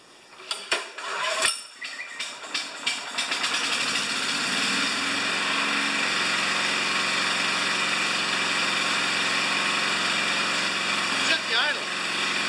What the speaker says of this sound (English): I'm going to start this up. I'm going to show you the difference between running regular and then running with the auto idle on.